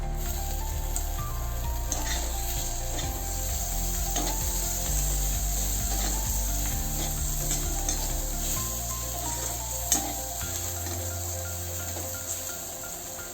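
Coriander sautéing in a pan over a low gas flame, giving a steady, soft sizzle that continues throughout, with occasional light taps and scrapes and a low hum underneath.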